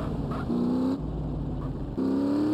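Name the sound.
motorbike engine revving in GTA San Andreas video game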